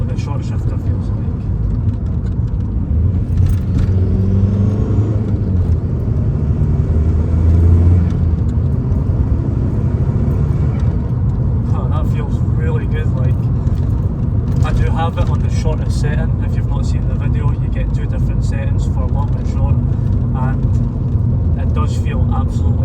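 A VW 1.9 TDI PD130 diesel car cruising at speed after a downshift, with a steady loud engine drone and road rumble filling the cabin; someone talks over it throughout.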